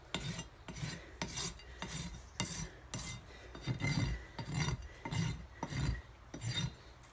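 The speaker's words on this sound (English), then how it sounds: "if it does that chatter when you're going one way, well, just change the direction you're filing" A hoof rasp files a horse hoof in steady, regular strokes, about two per second, each a rough scraping rasp with a low thump, close and distinct with no voices.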